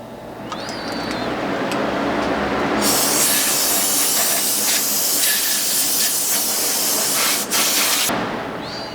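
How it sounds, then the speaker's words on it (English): Compressed air blasting powder off a powder coating gun, a loud, steady rushing hiss that builds, holds for several seconds and cuts off abruptly, close and with no talking. "to clean up this gun, you just need a little bit of compressed air to blow it off."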